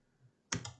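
A single computer mouse click, made while drawing a J-hook shape in DesignSpark Mechanical CAD software, sounds as one close, crisp tap followed by a faint second click, with near silence before it.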